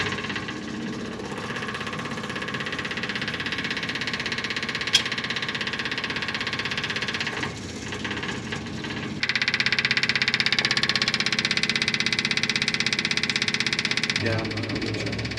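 A 1956 GMC 630 truck with a 503 straight-six engine, rescued off a Pennsylvania farm, cranks and runs with a steady mechanical drone that shifts in pitch and loudness partway through, with people talking nearby.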